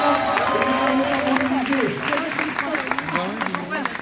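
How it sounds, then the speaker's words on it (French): Applause from a crowd at a strike rally in Montreuil rises behind a loud voice, with a steady wash of clapping running under the talk throughout. "Si les camarades applaudissent derrière"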